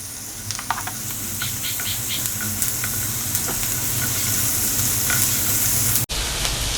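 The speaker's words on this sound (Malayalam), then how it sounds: "ഇതാ നമ്മുടെ ക്യാപ്സിക്ക ഇട്ട് കൊടുക്കാം" Capsicum and onion sizzle in a hot pan for chilli fish, a loud, steady frying hiss close by, dotted with small pops and stirring clicks, with a sharp brief break near the end.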